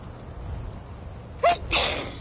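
A single person sneezes once, a short two-part burst with a sharp intake and release that stands out clearly over quiet room tone.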